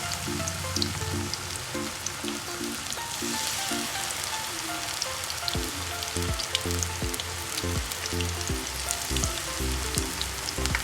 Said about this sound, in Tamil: எண்ணெய் சூடானதுக்கப்புறமா இந்த மாதிரி கொஞ்சம் கொஞ்சமாக எடுத்து போட்டுக்கோங்க.